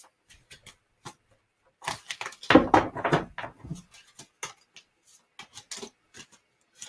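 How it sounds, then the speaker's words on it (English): A deck of cards is shuffled quietly, giving a brief soft riffle amid scattered light ticks and taps, close up with no voices. "Normally I would shuffle these cards a little bit different, but it's going to be so noisy for the audio, so I'm trying to do it quietly"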